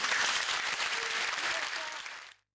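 Stormy applause from a theatre audience, a dense, loud wash of clapping that carries steadily for over two seconds before cutting off abruptly.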